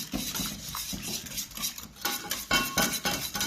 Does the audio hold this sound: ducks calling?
no